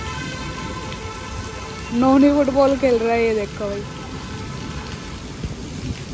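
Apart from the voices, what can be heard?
heavy rain falling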